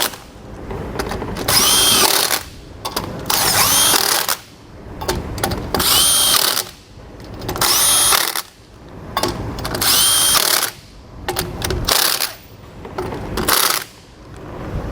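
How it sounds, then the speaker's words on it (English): A power tool drives trailer wheel bolts down on a 2022 Grand Design Imagine after Dexter bronze bushing installation, with about six loud bursts of whirring and hammering separated by brief pauses and light clinks. "When tightening down your bolts, you'll want to do it in a star pattern to draw it in equally against the hub face"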